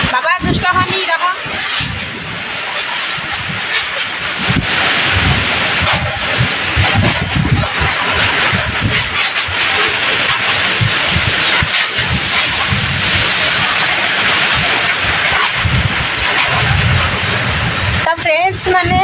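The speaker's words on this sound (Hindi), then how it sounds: "सब वर्षा पवन होउची" Heavy rain and gusting wind in a nor'wester storm sweep past steadily and loudly throughout, a dense continuous roar with brief dips, while a person talks over it.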